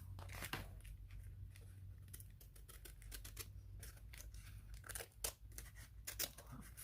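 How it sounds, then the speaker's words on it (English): Scissors trim the paper edge of a clutch journal, giving a string of close, crisp snips and faint paper rustles over a low background hum, with no talking. "And then take my scissors"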